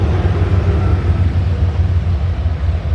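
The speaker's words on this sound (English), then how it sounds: "Here comes some motorcycles." Motorcycles passing along Skyline Drive at a mountain overlook parking lot in Shenandoah National Park, a steady low engine rumble with broadband road noise, fairly loud and continuous throughout.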